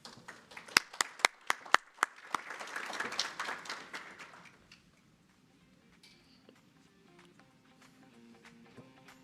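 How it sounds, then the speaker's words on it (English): A sparse audience claps at a business summit's opening ceremony, with a few loud, distinct, irregular claps building into a brief burst of applause that fades after about five seconds, leaving faint room tone and scattered small noises. "Round of applause, please."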